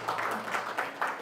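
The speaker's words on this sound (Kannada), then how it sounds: "ಸೊ ಒಂದು ಜೋರು ಚಪ್ಪಾಳೆ ಹೊಡೀರಿ." Audience applause after a CPR awareness talk, a steady patter of clapping from a small crowd with a few louder swells, fairly faint and without speech.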